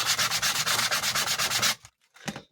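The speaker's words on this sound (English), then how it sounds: "you can sand the edges smooth" Abrasive sanding along the edges of a leather sheath for a British MOD survival knife, a steady run of rapid back-and-forth rasping strokes close up, then stopping, followed by a couple of brief faint rubs.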